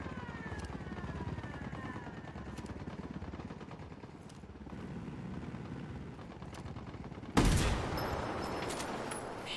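A helicopter drones steadily in a video game while bursts of gunfire crackle over it, ending in a sudden loud blast that carries on as heavier noise.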